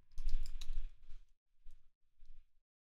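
Quick, uneven clicking of a computer keyboard being typed on, close and quiet, in a short burst followed by two smaller bursts of keystrokes.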